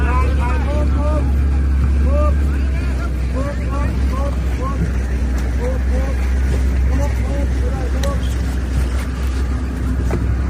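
Motorboat engines drone loudly and continuously during a flood rescue drill on the water, a heavy low rumble with people shouting and talking over it throughout.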